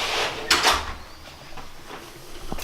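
A large closet door is unlocked with a key and swung open nearby, giving a couple of quick knocks and clatters early on, then soft handling sounds, with no talking.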